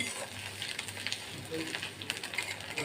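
Salted, crumbled scrambled egg frying in a pan, a soft steady sizzle with light scraping and stirring clicks, fairly quiet and close.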